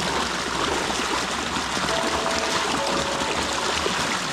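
Small waterfall in the Amazon rainforest, a steady broadband rush of falling and splashing water running continuously and fairly close, with no voices over it.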